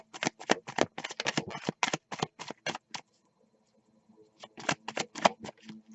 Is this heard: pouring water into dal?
no